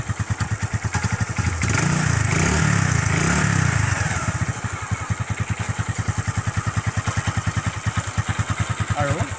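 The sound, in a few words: motorcycle engine running after starting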